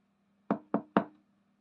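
Three sharp knocks on a door come in quick, even succession, close and clear, against a faint low hum with silence before them.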